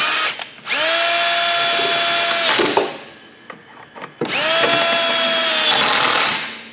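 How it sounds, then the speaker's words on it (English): A clutch-type power drill tightens bolts on FastPipe industrial 4- and 6-inch compressed air piping. It gives two loud, sustained whirring runs of about two seconds each, separated by a brief pause with clicking. "just use a clutch type drill where you can set the clutch settings so we're not over torquing the bolts"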